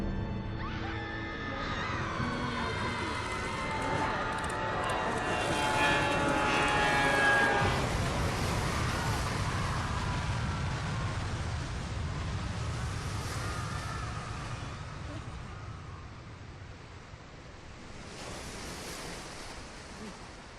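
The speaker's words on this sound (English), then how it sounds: "You're on a flight to some unknown destination when your plane loses altitude and crashes in the ocean" A plane crashes into the ocean in the video game BioShock, heard as a long roaring wash of surf and wind that swells, fades and surges again, with no speech.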